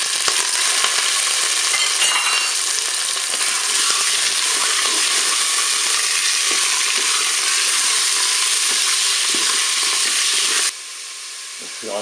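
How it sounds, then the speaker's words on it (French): Salmon fillets frying in olive oil in a Cookeo multicooker pot, a loud, steady sizzle and hiss throughout with a few faint scrapes, cutting off abruptly near the end. "on va faire revenir nos filets de saumon"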